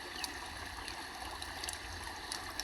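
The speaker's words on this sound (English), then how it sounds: "Do you hear the river?" A river flowing in a steady, unbroken wash of water with faint trickling and gurgling detail, quiet and constant throughout, with no voices.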